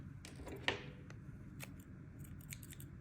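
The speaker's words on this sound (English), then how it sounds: "Oh, these scissors are not very good." Scissors snipping embroidery thread on a wildflower stitch kit, one crisp close cut followed by faint handling clicks in a quiet room.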